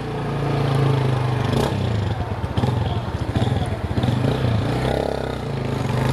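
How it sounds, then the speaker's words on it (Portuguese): A motorcycle rolling down a high curb without a rider, the engine idling low while clattering, scraping thumps bump through the middle as the bike drops off the edge, fairly close. "Deixa a moto descer sem eu em cima, porque senão eu estrago com ela"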